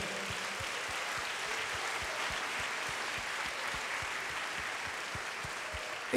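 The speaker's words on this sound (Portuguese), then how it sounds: "Vamos aplaudir ao Senhor." A church congregation applauds during a Sunday service, a fairly quiet, even wash of clapping with a steady rhythmic thump underneath, continuing throughout.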